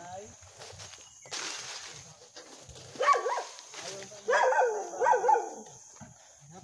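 Dog barking in a few sharp bursts at a rural house, mixed with footsteps and people talking nearby.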